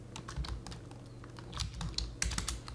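Close computer keyboard typing while code is written: quick, irregular clusters of soft key clicks and taps, with a few louder keystrokes, and no talking.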